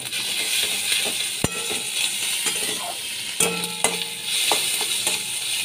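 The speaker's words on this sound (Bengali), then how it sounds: "ভালো করে ভেজে নিচ্ছি।" Crushed garlic and green chili fry in a pan, a steady close sizzle with occasional sharp clinks and scrapes of a spoon stirring, no voices over it.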